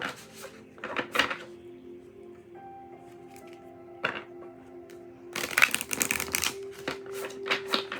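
A tarot deck being shuffled by hand with back-and-forth overhand passes rather than bridging, close-up bursts of riffling card flicks separated by quiet pauses, denser at the end.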